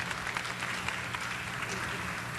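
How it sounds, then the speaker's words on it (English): An audience at a Latina Wellness Summit in Los Angeles City Hall applauds, a dense, steady wash of clapping from many hands filling the room throughout. "I want you to give her a big round of applause."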